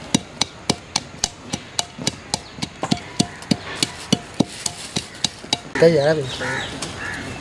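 Almonds and sugar are pounded by hand to grind sardai, about twenty sharp rhythmic thuds close by, then a voice breaks in near the end.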